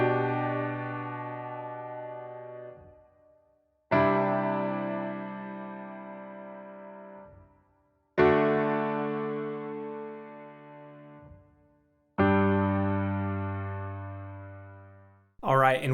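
Slow two-handed piano chords for a worship song ring out alone, four sustained chords each struck and left to decay for several seconds before the next, clear and close.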